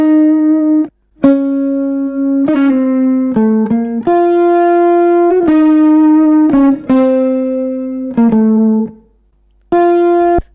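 Clean synth or guitar-like notes pass through an amplitude-driven overdrive with EQ boosted, played as a choppy sequence of sustained tones and quick stabs, louder notes grittier than softer ones, separated by short gaps, loud and close.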